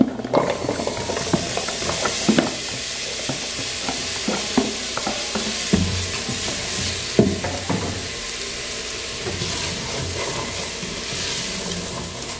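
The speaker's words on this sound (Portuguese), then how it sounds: "Começou a dourar o alho, vou colocar a cebola." Chopped onion dropped into a pan of garlic frying in oil, a loud steady sizzle with scattered crackles and stirring knocks throughout, no voices.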